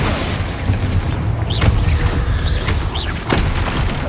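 Repeated booming blasts of the Bombarda spell in the Hogwarts Legacy video game amid a dense, noisy combat mix, with several explosive impacts spread through the clip over constant battle noise.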